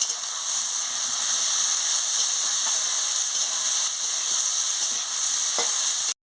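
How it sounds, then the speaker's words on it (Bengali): Potato pieces fry in a pan with turmeric and salt, giving a loud, steady hissing sizzle close up. A faint tap comes near the end before the sound cuts off abruptly. "দিয়ে ভালো করে ভেজে নিচ্ছি"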